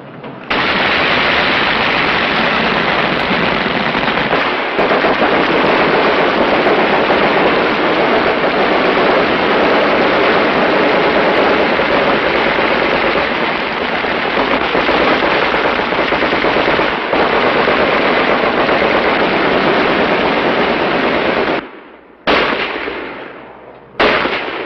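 Sustained automatic gunfire at a target on a firing line, a dense, loud continuous burst lasting over twenty seconds before cutting off abruptly, with a few brief sputters after.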